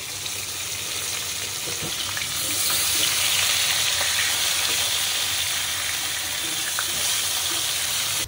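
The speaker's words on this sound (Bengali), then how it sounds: "তাই আমি মাছটা আমি জাস্ট ভেজে দিচ্ছি" Rohu fish ring pieces frying in hot oil, a loud dense continuous sizzle that swells slightly partway through, heard close with a few faint crackles and no speech.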